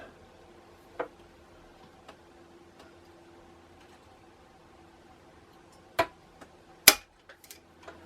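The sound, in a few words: spring-loaded center punch striking metal to make a dimple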